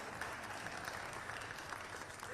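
Faint, steady audience applause at the Detroit Auto Show, a continuous dense patter of many hands clapping from a distance, holding at an even level with no voices above it.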